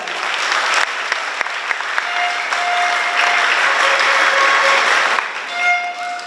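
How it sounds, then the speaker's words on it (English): A graduation audience gives sustained applause, dense clapping from a large crowd throughout, with a few faint tonal sounds and a brief lull near the end. "Let us give her another round of applause."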